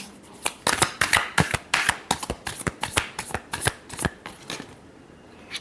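Tarot cards are shuffled by hand in a quick run of crisp, close riffling snaps, roughly a dozen sharp bursts in an irregular rhythm before the sound tapers off into quiet.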